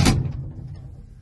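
Elevator doors close with a single sharp thud that fades quickly into a low, faint resonance.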